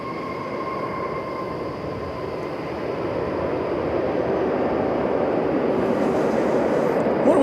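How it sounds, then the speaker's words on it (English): American Airlines Flight 430 from Charlotte, an airliner at DFW Airport, gives off a broad, steady jet roar that swells gradually over several seconds as it nears, with no talking over it. "that was American Flight 430 from Charlotte, another American Airlines hub"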